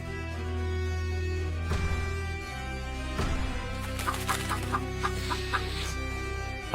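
A cartoon chicken clucks in an animated Hindi-dubbed tale, sounding over a continuous droning music bed. A few louder thumps come first, then a run of short, rhythmic clucks, with no talking.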